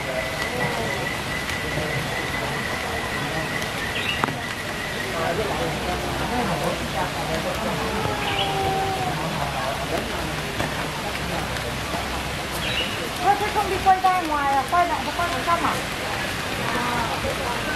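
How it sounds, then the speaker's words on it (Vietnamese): Heavy rain falling steadily over a wildlife enclosure in a national park zoo, a dense constant hiss with a few faint animal or bird calls and a voice now and then. "Trời mưa rồi các bác ạ, mưa dày hạt mất rồi."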